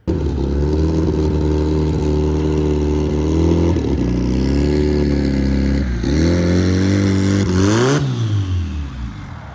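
Turbocharged Hyundai car driving without its dash fitted, a loud steady engine drone that rises and falls with revs, climbing sharply near the end, close and continuous with no talking.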